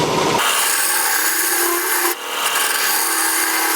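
A gouge hollows out the bottom of a wooden turning, making a continuous rough scraping and shaving of wood with a short dip partway through.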